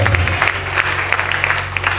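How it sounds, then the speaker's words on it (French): A church congregation claps together during a worship service, giving a busy patter of many hands over a low steady hum. "tu applaudis pour le Seigneur dans le soir"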